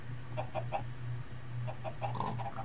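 A log chicken in the Minecraft Sky Factory 3 modpack clucks in short, soft repeated bursts, near and moderate in level, over a steady low game hum with no talking.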